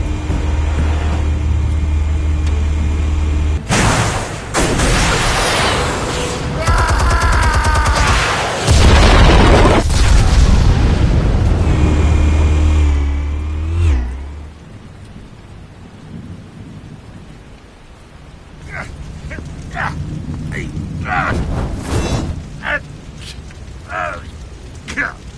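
Explosives detonating in a Batman video game, heavy booming blasts and rumbling debris over several seconds, then fading to lighter crackles and scattered impacts, with voices talking partway through.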